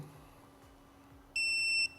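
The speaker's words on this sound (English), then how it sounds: "we're going to hear that little beep" A bright, steady electronic beep sounds once for about half a second after quiet background hum, as a Perception Neuron motion-capture device is connected to a computer by USB.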